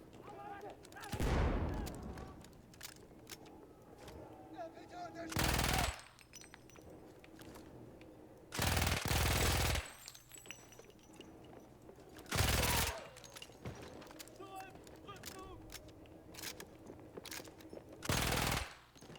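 Heavy bursts of weapon fire in the World War I shooter Battlefield 1, five loud, separate volleys of rapid shots spread over a quieter, rumbling battlefield background, with someone talking in between.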